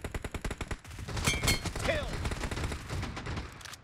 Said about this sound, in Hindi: शॉटगन कौन चला रहा है बंगाली?